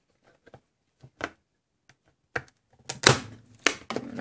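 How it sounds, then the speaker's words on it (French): Scissors snip and tear into the packaging of a Pokémon Pokébox, giving a few sparse sharp cuts early on and then louder crinkling, ripping bursts close to the microphone, with no speech. "j'ai pris mes ciseaux"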